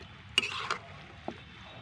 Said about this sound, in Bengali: এবার আমি এগুলোকে ভালো করে নাড়াচাড়া করবো একসঙ্গে অন্তত অন্তত মিনিট দশেক ধরে